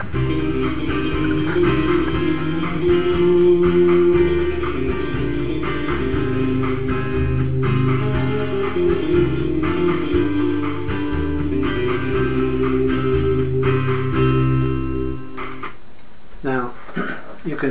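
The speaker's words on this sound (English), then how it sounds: "Can hear that the lead guitar is following a little bit behind." Guitar recording played over a backing track, with the lead guitar lagging slightly behind the rhythm, giving a steady, dense, loud mix that cuts off near the end.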